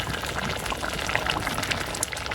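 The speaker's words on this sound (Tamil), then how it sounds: "நல்ல வடிவாக கொதிக்குதே" Continuous bubbling and popping of crab curry at a rolling boil in a pot, close by and steady, with no talking.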